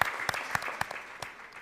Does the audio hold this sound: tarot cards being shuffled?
no